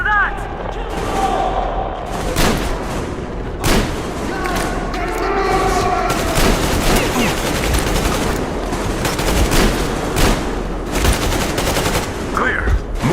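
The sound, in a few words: gunfire from covering fire, video game Metro Exodus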